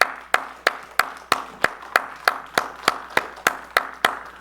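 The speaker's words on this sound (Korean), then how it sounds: "우리 격려의 박수를 함께하기 원합니다" A church congregation claps together in a steady, slow unison rhythm, about fourteen crisp beats in a row, loud and evenly paced with no talk over it.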